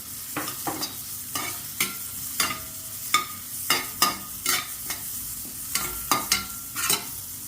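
Onions sizzle steadily in a pan for an egg and potato masala while a spoon scrapes and stirs in irregular taps, close and moderately loud.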